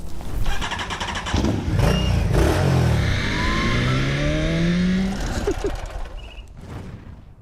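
A Honda Navi motorcycle rides off on the way to work, its small engine revving and accelerating close by with a few climbing pitch sweeps before fading away.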